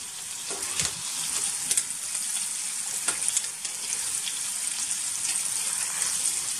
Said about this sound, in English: My pan is still warming up, and I am just going to put a little olive oil in there. And then... not too many meatballs in there.